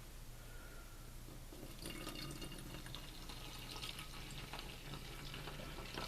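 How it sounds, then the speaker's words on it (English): Ammonia being poured into a container, a faint steady trickle of liquid that grows fuller partway through, with a low hum underneath and no speech. "So we're going to put about 2 inches of ammonia into this"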